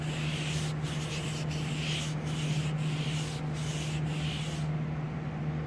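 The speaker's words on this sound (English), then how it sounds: "So we're just going to go lightly on there, and you're scuffing the surface just here on the passenger side." A car door's passenger-side surface is scuffed lightly by hand before a vent visor install, a close, rhythmic rubbing with repeated short strokes over a steady low hum, stopping near the end.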